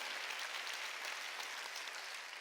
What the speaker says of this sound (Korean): 깨달은 사람만 박수 쳐.